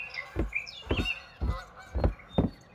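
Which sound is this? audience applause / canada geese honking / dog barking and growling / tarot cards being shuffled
canada geese honking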